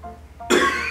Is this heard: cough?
yes